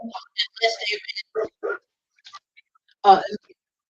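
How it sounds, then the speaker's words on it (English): Pet dogs bark in short sharp bursts in a quiet indoor room, a handful of yaps and yips spread across a few seconds with silent gaps between them. "mute because my dogs are barking"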